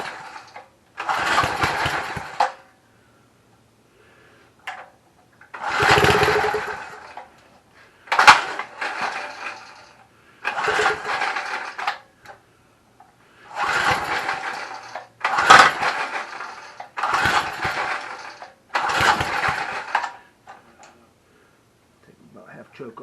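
A Lawn Keeper Trim Rite gas edger is pull-started with its choke on. About seven sharp recoil-cord pulls sound close by, each separated by silence, and the engine does not catch.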